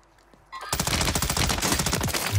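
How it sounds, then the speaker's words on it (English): An M13B rifle in a Warzone video-game gunfight fires a loud, close, continuous rapid-fire burst that starts abruptly and keeps going to the end. "And this is our first gunfight that we get involved with."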